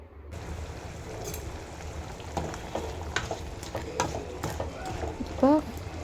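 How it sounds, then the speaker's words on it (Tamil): A spoon scrapes and stirs crab in masala in a pan with steady sizzling underneath and a few sharper clinks, close up, no talking. "இந்த நண்டை சேர்த்துக்கலாம். சேர்த்து ஒரு பெரட்டலாம்."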